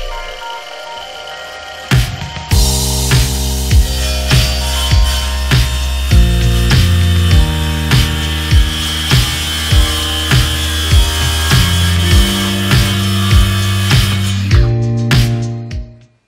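An Airbower saw fitted with a 24-tooth crosscut blade cuts through wood in a loud, close, continuous whine lasting about fourteen seconds. It pulses with regular rhythmic ticks and winds down at the end.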